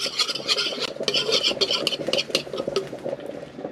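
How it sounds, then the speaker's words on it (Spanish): Chicken seasonings being stirred together in a bowl ahead of adding honey, giving steady scraping and clinking strokes of utensil against dish, close and fairly loud, with no talk. "vamos a mezclar. Mezclamos esto."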